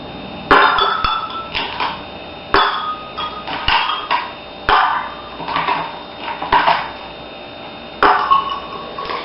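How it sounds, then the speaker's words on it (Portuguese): About four ice cubes dropped one by one into a glass of water, each landing with a hard clink and a small splash, spaced out unevenly, close and fairly loud. "a gente vai pôr uns 4 cubos de gelo"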